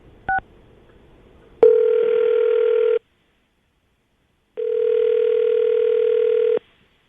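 A telephone rings on a live radio call, a short blip followed by two long, loud, steady ring tones separated by silence.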